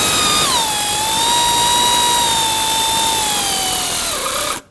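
A power tool whines loudly at a steady pitch, dipping slightly under load, while snugging up the exhaust manifold bolts on a 2009–2019 Ford Flex, then cuts off abruptly.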